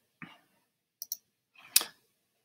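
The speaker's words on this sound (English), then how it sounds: "Then I'm going to click OK." Computer mouse clicks at a desk while editing an image, a few short crisp clicks spaced apart in near silence, close and clear.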